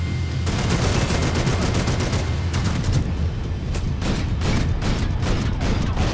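Gunfire in the video game Max Payne 3, loud rapid bursts of shots and booming blasts in quick irregular volleys that carry on throughout with hardly a pause.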